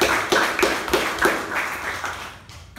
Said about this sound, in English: A huge round of applause to the MC.